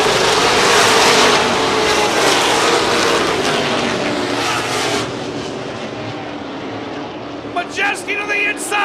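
Race cars battling for the lead at Seven Rivers Racing, a loud roar of engines sweeping past then fading into a steadier distant drone, with a few sharp engine blips at the end.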